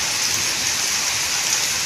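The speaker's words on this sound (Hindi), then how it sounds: "ये देख सकते हैं आप कितनी मोटी बारिश आ रही है" Heavy, thick rain pours down steadily on a cold day, a dense, even hiss of drops striking surfaces up close with no pauses and no voices.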